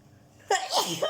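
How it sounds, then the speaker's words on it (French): A single sharp sneeze from someone with a cold bursts out after a quiet moment, loud and close, with a short breathy tail. "je vais éternuer"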